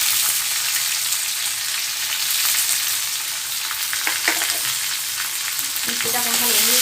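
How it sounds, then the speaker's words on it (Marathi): Curry leaves, cumin and green chillies sizzle in hot oil in a pan, giving a loud, steady hiss with scraping stirs and a few clinks of a spoon against the pan toward the end. "2 मिनिटं हलवून घ्यायची मिरची भाजून जरा."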